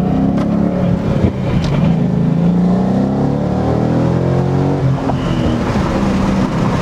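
A 2014 Ford Mustang GT with the premium package pulls away under throttle, its V8 rising steadily in pitch through the gears with a loud, continuous engine roar, close and uninterrupted, with no talk.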